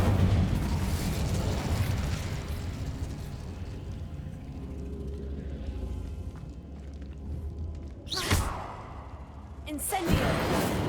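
Incendio fire spell cast in the game Hogwarts Legacy: two sharp, bright bursts of fiery whoosh land late, each brief and loud, over a steady bed of game ambience and a speaking voice.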